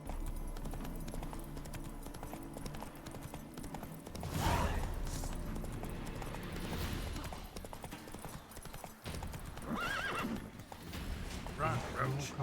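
Horse Roach from The Witcher 3 video game gallops with steady clip-clop hoofbeats and lets out loud neighs and whinnies, with game music and effects underneath throughout.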